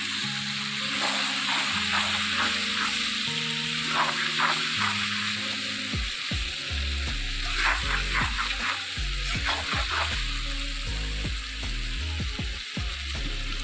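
Chicken with ginger and tomato fries in an iron pan over a wood-fired clay oven, giving a moderate sizzle broken by scraping stirs that grow busier and more rhythmic in the second half.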